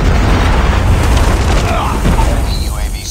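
A Predator missile strike in Call of Duty Mobile lands as a loud, heavy boom with deep rumbling low end and a dense, crackling blast that fills the whole moment before trailing off slightly.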